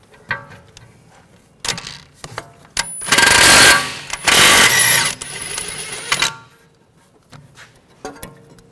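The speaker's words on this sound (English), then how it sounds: "We're going to take this bolt out, use an 18 millimeter socket." An 18 mm socket on a power tool loosens a bolt on the rear forward upper control arm of a 2009–2013 BMW 328i xDrive, giving two loud, rattling impact bursts of about a second each amid lighter clinks of tools.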